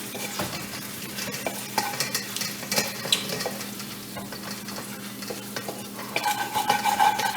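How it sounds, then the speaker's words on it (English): Caramelized onions being scraped off the bottom of a hot roasting pan after cooking lamb: steady sizzling with repeated scratchy utensil scrapes, close and continuous, sharper clatter toward the end. "scraping a little bit of that caramelization, the onions and that off the bottom"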